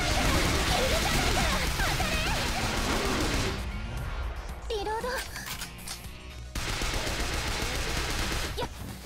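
Rapid gunfire bursts from the School Girl/Zombie Hunter video game, dense loud fusillades with a brief pause partway through, played under a speaking voice.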